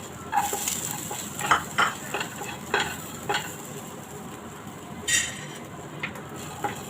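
Potato kurma ingredients with curry leaves and coconut roasting in a pan, a low sizzle under scattered scrapes and light clinks of a spoon stirring, fairly close with quiet gaps between strokes.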